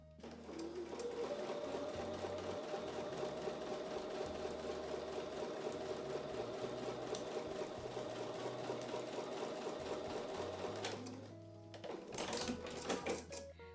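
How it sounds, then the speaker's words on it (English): A sewing machine runs steadily while stitching quilt block pieces, a close, continuous rapid whirring for about eleven seconds before it stops, followed by a few brief clicks and handling sounds. "when I take them to the machine I will sew them this way up so I can see where the points are"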